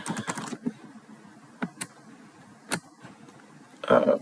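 Short bursts of typing on a computer keyboard, a quick cluster of key clicks followed by sparse single taps, close and fairly quiet.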